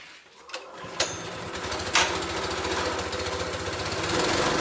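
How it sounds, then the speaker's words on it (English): Compressed air blasting through a leaf blower's air filter: a steady, loud hissing rush that builds after a couple of sharp bursts, with a low engine-like drone running underneath throughout. "So I'm gonna go blow this out with the air compressor"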